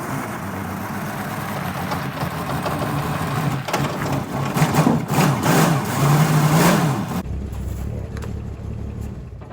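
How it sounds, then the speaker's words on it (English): A 1971 Chevrolet Nova six-cylinder engine runs close by, a steady mechanical hum with a few rising revs in the middle before settling back to a lower idle. "I love that 6-cylinder."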